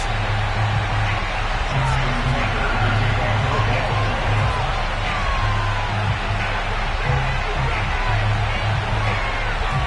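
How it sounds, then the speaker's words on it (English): Baltimore stadium crowd at an NFL Ravens vs. Los Angeles Rams game, approving the two teams emerging from their tunnels: a steady, far-off roar of cheering and babble that runs the whole time with no single voice standing out. "The two teams emerging from their respective tunnels a minute ago to the approval of this Baltimore crowd"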